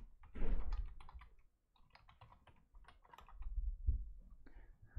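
Typing on a computer keyboard during a class session, with a fast run of crisp, close key clicks in uneven bursts over low room rumble and a few soft thumps.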